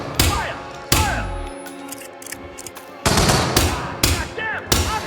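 Bursts of machine gun fire ring out in a Hitman 2 firefight, loud broadband volleys with metallic clangs, pausing briefly then resuming in heavy repeated bursts, with shouted voices mixed in.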